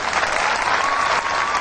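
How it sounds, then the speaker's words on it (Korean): Audience applause at an international professional kickboxing event for German fighter Daniel Roy, a loud, dense, continuous burst of crowd clapping filling the arena. "혼신을 다해서 싸운 이 독일 선수에게 다니엘 로이에게 경기 박수 부탁드립니다"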